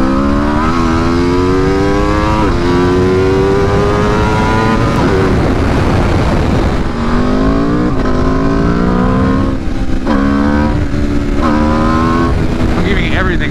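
2022 Aprilia RSV4 Factory 1100 with a BT Moto ECU flash tune at full throttle, engine screaming loud and close through several rising gear pulls, each cut by a quick shift, with a rider talking over it.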